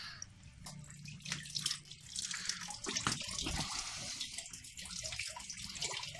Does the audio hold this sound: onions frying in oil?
no